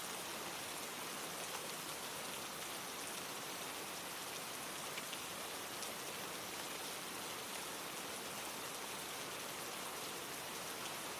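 Steady rain falls without a break, a dense even hiss of drops on surfaces that stays close and constant, with no voices or other sounds.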